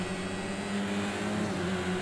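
Engine of a Mercedes AMG A45 touring car in the Project CARS 2 racing game at Knockhill, a steady droning hum held at an even pitch and loudness throughout, with no talk.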